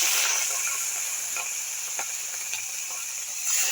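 Small chuno fish frying in hot mustard oil in a kadai, giving a steady, bright sizzle from start to finish with faint crackles and pops scattered through it, close and fairly loud, with no voice.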